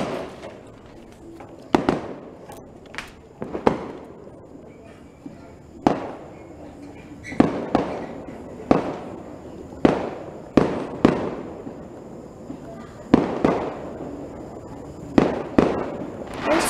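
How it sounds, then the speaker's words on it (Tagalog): Fireworks go off outdoors in a series of sharp, loud bangs at irregular intervals, some in quick clusters, each followed by a brief rumbling decay, with faint voices in between. "merong fireworks."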